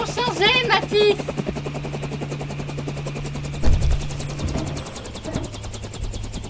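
A helicopter sets down in an audio drama scene, its steady rotor chop pulsing throughout, with voices talking over it at the start and a low thump midway.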